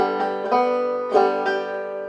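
A banjo's second string is plucked twice, two bright twangs standing out over ringing strings, with a sustained tone carrying through between the attacks.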